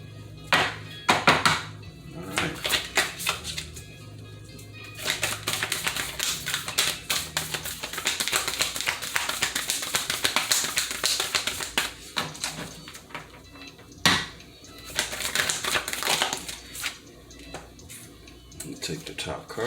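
Isis Oracle cards being shuffled in clattering, tapping bursts that continue for several seconds and pause now and then, close and fairly loud, with a person talking over parts of it.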